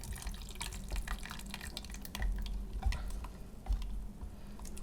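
A gel plate mixture is stirred as boiling water pours in, giving close, continuous watery swishing and sloshing with soft spoon clinks and a few louder splashes.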